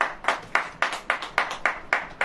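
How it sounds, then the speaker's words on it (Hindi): A church congregation claps in a steady, rhythmic beat, about four claps per second, blended into a full and fairly close sound with no speech over it. "ताली बजेगी कि नहीं?"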